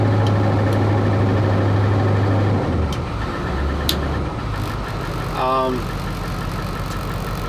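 A 2002 International school bus converted to a skoolie idles steadily up close, a continuous low engine rumble with a brief squeaky chirp partway through.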